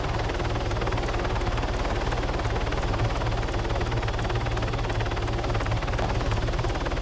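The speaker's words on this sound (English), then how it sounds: "My favorite way to capture is to simply grab a heli and fly around and hover" A helicopter in a video game mod thumps with steady, rapid rotor beats over a constant engine roar while it flies and hovers, loud and unbroken for the whole stretch.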